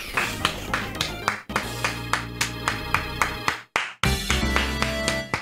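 Sharp, regular claps hit a microphone at close range, loud and slightly distorted, with steady rhythm, brief cutouts, and Mario Kart battle mode music and effects running underneath.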